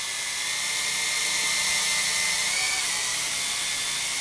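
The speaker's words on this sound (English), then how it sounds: "Oh, I love this quadcopter." An Ares Ethos HD quadcopter hovers close by in the wind, its small rotors giving a steady high-pitched whine that holds level for a few seconds with no talking.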